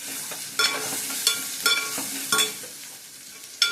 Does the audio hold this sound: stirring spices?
yes